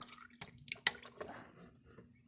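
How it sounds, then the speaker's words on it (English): Motor oil drips and trickles from the oil filter housing of a 2018 Toyota Highlander XLE V6 into a drain pan, faint irregular drops and small splashes with a few sharper taps. "It's going to drain the rest of the oil from the oil filter housing down into your drain pan."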